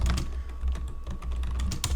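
A command being typed on a computer keyboard to run a local AI model, heard as a steady run of quick, close key clicks with brief pauses and no voices.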